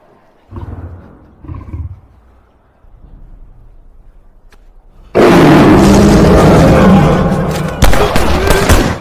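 A tiger roar sound effect bursts in loud and close, a sustained rough growl that swells and holds to the end. It follows several quieter rumbling growls earlier.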